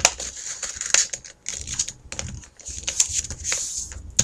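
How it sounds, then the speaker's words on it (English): Sheet of paper being folded and creased into a hamburger fold, with a series of crisp, close rustles and sharp crackles in short irregular bursts and brief pauses, no talking. "Open up this and tilt it over, and we're going to make a hamburger fold."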